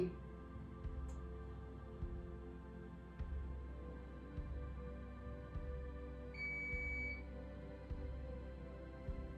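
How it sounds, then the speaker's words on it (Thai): A single short electronic dishwasher beep sounds faintly over a low, steady hum. "เสียงเครื่องล้างจานมันเลยดังค่ะ ดังปี๊บปี๊บ"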